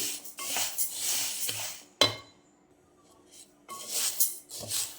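Husked urad dal roasts dry in a pan while a spoon scrapes and stirs it, giving bursts of gritty scraping and light clinking, then a second of quiet before the stirring resumes close up.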